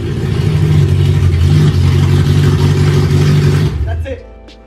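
A BMW E90/E92/E93 engine running with open headers roars loud and raw with a rough, throbbing exhaust note that holds steady, then cuts off sharply near the end as people talk over it.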